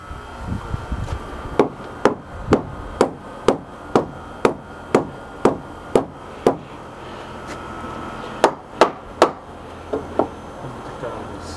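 Sharp hammer blows strike wood while rebuilding a deck, in a steady rhythm, about a dozen evenly spaced hits followed by a quicker burst of three and a couple of lighter taps.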